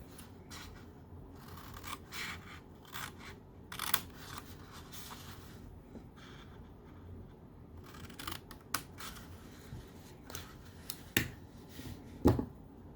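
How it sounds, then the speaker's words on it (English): Scissors snip cardstock along a score line while making a Stampin' Up! Easter treat holder bag, giving a string of short, crisp cuts and faint rustles, close and fairly quiet, with no talking. "Now we're going to cut in the score line and right down here."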